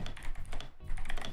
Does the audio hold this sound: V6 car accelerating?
no